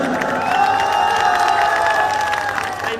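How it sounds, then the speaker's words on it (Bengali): A crowd at a political rally on a Trinamool stage applauds steadily to welcome a new member, with dense close clapping and light cheering running unbroken throughout. "যতক্ষণ চলছে একটু হাততালি দিন আমাদের ছেলেরা"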